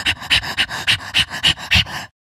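Dogs pant rapidly and steadily close up, about eight breathy bursts in a regular rhythm before cutting to silence.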